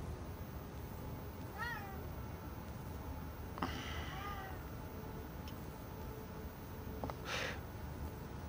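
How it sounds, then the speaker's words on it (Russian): Cats meowing inside the video game Vampyr, several distinct meows scattered across a steady background hum, one stretched wavering call in the middle, moderately near. "Да, уж эти коты, эти кисы, эти мяу-мяу"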